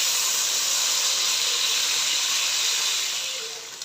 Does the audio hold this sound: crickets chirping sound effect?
no